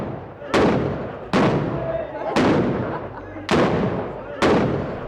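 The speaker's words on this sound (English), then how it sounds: "they're called the rock cannons, and they fire them early in the morning and then throughout the day" Rock cannons fired at a village event, five loud, sharp booms spaced about a second apart, each followed by a rumbling decay, close and dominant with no talk over them.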